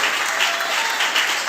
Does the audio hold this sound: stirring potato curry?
no